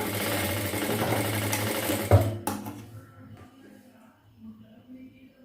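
A sewing machine runs through a seam on a churidar with a close, steady whir, stops with a clack, and gives way to quiet handling of the fabric.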